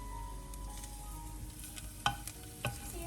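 Squid and onions sizzle in a pan under continuous stirring, a steady close frying hiss broken by two sharp utensil clinks against the pan near the end.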